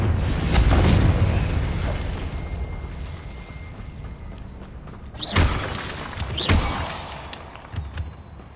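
A fiery Confringo spell blast in the Hogwarts Legacy game bursts with a loud booming shatter, followed by a quieter rumbling stretch and two more sharp explosive cracks later on.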